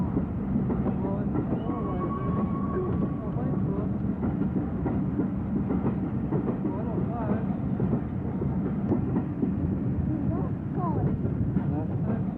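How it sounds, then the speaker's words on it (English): The Flying Scotsman steam locomotive rumbles and clatters past at Oxford in a steady, muffled roar that lasts throughout, heard as if from old, narrow-band film sound. "Also at Oxford was Flying Scotsman on a southbound special train."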